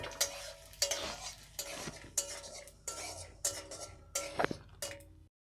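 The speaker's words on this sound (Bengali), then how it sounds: "এবারে প্রথমে আমি এই বাদামগুলো ভেজে নেব," Peanuts frying in a spoonful of ghee in a hot wok, heard as a quiet sizzle broken by repeated sharp scrapes and clinks of a spoon stirring against the pan, about five strokes in a row.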